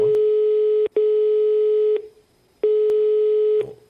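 A mobile phone in the Farming Simulator 22 video game rings with a steady electronic tone, sounding in two long even bursts separated by a short gap, loud and clean with no talk.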